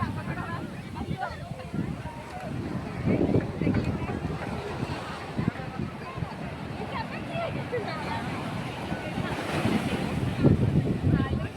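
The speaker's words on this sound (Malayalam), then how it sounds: "ഇതാ അലറി അടിക്കുന്ന തിരമാലകളാണ്." Sea waves at Shanghumugham beach in Kerala roar in a continuous rough wash, with gusty wind buffeting the microphone and a person talking over the surf.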